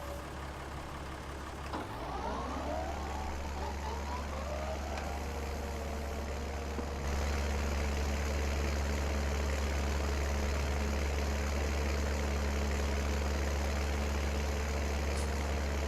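A Deutz Fahr DX4 tractor's heavy diesel engine in Farming Simulator 19 starts up and settles into a steady, low rumbling idle, loud and continuous with a slight rise in intensity partway through.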